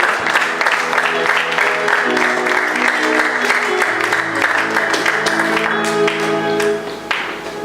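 Church congregation applauding and acclaiming together, a sustained dense wash of clapping and voices, loud and close, lasting throughout before easing slightly at the end.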